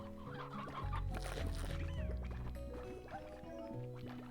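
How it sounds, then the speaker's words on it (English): Rooster and chicken clucking from the video game Slime Rancher, a run of short tonal calls laid over a steady low musical drone, loud and close with no talking. "Oh yes, roosters, yes."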